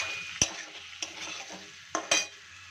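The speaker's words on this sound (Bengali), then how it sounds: "সস দিয়ে আমি একটু নাড়িয়ে নিচ্ছি" Chicken fried in butter with sauce sizzles quietly in a pan while a utensil stirs it, with a few sharp clacks of the spoon against the pan and no speech.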